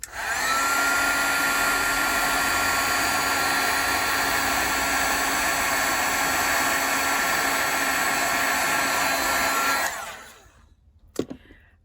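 A heat tool for crafting blows hot air over a mixed-media card, a loud steady whirring hiss that holds for about ten seconds and then winds down, followed by a sharp click.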